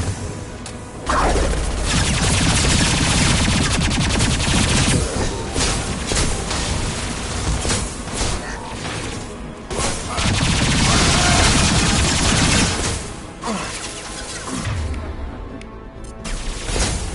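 Dense, sustained gunfire and explosive booms in the Mass Effect 2 video game, loud continuous bursts of rapid shots rolling over each other for many seconds with brief lulls.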